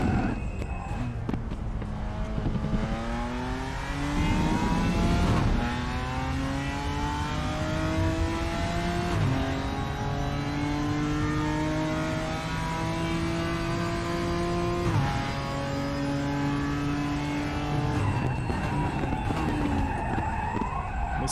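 A GT4 race car in the sim racing game RaceRoom revs hard and climbs through the gears, its engine pitch sweeping up and dropping at each shift, with tyre squeal mixed in. The engine stays loud and continuous.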